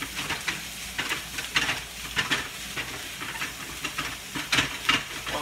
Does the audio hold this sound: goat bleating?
no